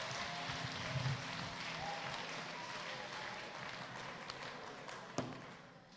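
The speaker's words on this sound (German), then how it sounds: "Wir klatschen für Jesus," A church congregation claps for Jesus in a steady, fairly faint patter of many hands that runs under a low room murmur and fades toward the end.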